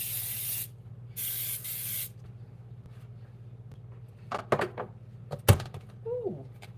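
Two long hissing bursts of cooking spray coat a waffle iron in a home kitchen while making chocolate chip waffles, each spritz loud and close, followed by clicks, a thunk and a little talk.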